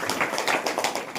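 A church congregation claps in rhythm during a worship meeting. The claps come quick and even, with many hands together in a reverberant hall.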